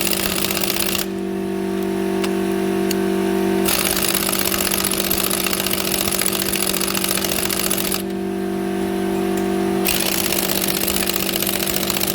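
A pneumatic impact wrench hammering at a ball joint nut on a Peugeot 307 under repair, a loud, continuous buzzing rattle in two long bursts separated by steadier mechanical whine, close up with no speech.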